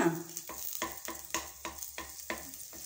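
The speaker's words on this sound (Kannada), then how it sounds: "ಬಟರ್ ಹಾಕಿದ್ದೀನಿ, ಹಾಗೆ ಸ್ವಲ್ಪ ಆಯಿಲ್ ಹಾಕ್ತೀನಿ. ಇದೆರಡು ಕರಗಿದ ತಕ್ಷಣ" Butter and a little oil melting in a pan for palak paneer, with a faint sizzle under a steady run of rhythmic scraping stirs, about two each second, quiet and close.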